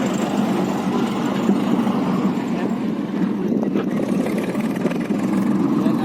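A tractor engine drones steadily and close by on a road in Kutch, a continuous low rumble throughout, with faint voices in the background.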